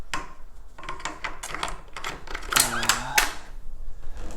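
Metallic clicks and sliding rattles as the bolt of a Ruger American Predator 6.5 Creedmoor bolt-action rifle is released and pulled out, a close, busy series of small mechanical knocks with a brief whirring scrape in the middle.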